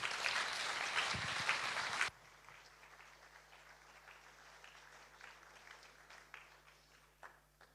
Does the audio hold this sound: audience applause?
yes